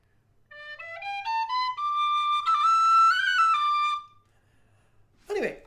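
An inexpensive Oak High D tin whistle plays a short rising melody of clear, bright notes, close and solo, ending with a brief rustle of handling noise.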